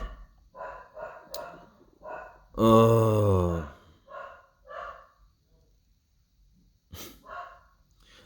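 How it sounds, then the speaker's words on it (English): A dog gives one sustained, loud whining bark-howl in the middle, surrounded by short snorts and breathy huffs from close by, with a brief spoken word. "my dog is barking"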